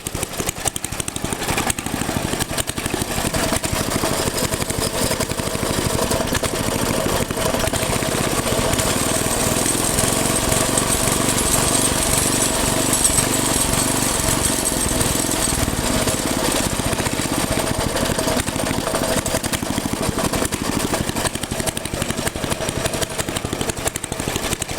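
A small tiller engine running steadily after its spark plug was cleaned, a loud, close, continuous chugging drone that holds for about twenty-five seconds with no talking.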